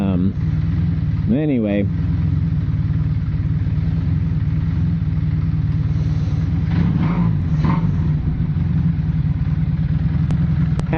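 Motorcycle engine, a 440, idling with a steady low throb and a few quick revs that rise and fall, close and loud, with a person briefly speaking.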